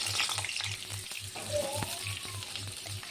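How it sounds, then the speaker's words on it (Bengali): Pointed gourd (potol) fries in hot oil in a wok, a steady close sizzle with soft stirring clinks and a faint pulsing hum underneath. "তবে পটলগুলি এখন আমি সেই তেলের মধ্যে ছেড়ে দিলাম।"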